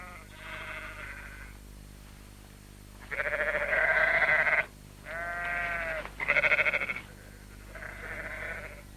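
Sheep with brown faces and long floppy ears bleat inside a cave, several calls in a row with short pauses between them, close and moderately loud, no one speaking.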